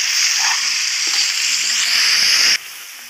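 Meat and onions sizzle loudly in a frying pan as they are stirred, a constant hiss with faint scraping, dropping suddenly in volume near the end.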